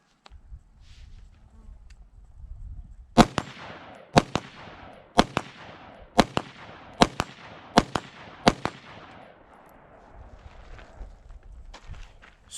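Rifle fitted with a Dead Air quick-disconnect muzzle brake fires about eight sharp, very loud cracks at roughly one-second intervals, each echoing briefly against a quiet outdoor background.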